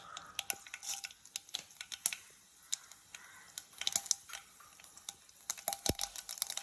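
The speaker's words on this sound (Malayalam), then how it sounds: "കടുക് പൊട്ടിയിട്ടുണ്ട്." Mustard seeds crackle in hot coconut oil in a pan, rapid irregular pops and snaps, faint and close, over a low frying hiss.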